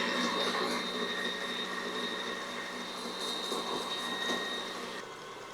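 An electric mixer whirs steadily in a bowl of cake batter, a constant motor hum with a slight change in pitch as the speed goes up.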